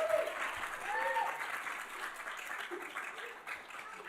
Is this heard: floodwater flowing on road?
no